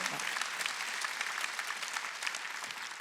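A church congregation at a Sunday worship service claps together, a dense, even patter of many hands that runs steadily for three seconds at moderate volume, with a faint murmur beneath.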